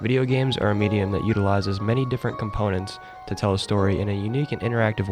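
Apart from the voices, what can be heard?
No everyday noise stands out behind the speech.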